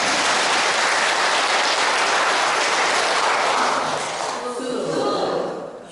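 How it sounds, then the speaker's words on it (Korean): A large congregation at a Lenten lecture gives a loud, dense round of applause that holds steady and then fades out toward the end as a voice returns. "박수 한번 쳐주십시오."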